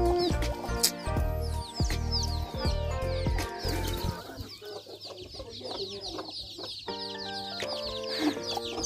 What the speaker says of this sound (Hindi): वाह यार इतना सारा मुर्गी है,